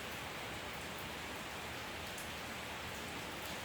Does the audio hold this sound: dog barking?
no